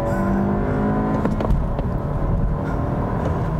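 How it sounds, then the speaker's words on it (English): A 2022 Honda Civic Hatchback accelerates hard with a steady engine drone rising through the gears, a brief tire chirp marking the shift into second, heard close without talk. "It really chirps into second."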